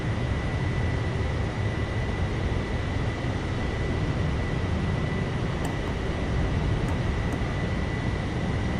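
A Boeing 777 taxis to the gate in Microsoft Flight Simulator 2020, making a steady, loud, unbroken jet-engine rumble and whine with a few faint high blips near the end.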